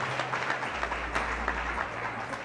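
An audience applauds the finalists at an evening modelling competition, giving a sustained round of clapping with scattered sharper claps over a low humming bed of background sound.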